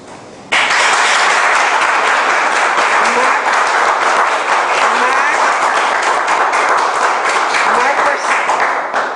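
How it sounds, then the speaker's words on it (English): Sudden loud applause from a crowd at a county rent guidelines board public hearing breaks out and continues steadily, a dense wash of many hands clapping. "Please abstain from clapping"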